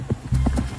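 Hooves clip-clop in a few uneven beats, close by and fairly loud, with a faint voice briefly underneath.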